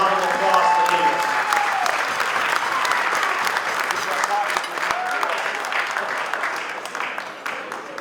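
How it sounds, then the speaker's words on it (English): Audience at a political rally for a congressional candidate in Michigan, applauding in a dense, sustained roar of clapping with a few cheers near the start, steady throughout. "So give yourselves a round of applause for me."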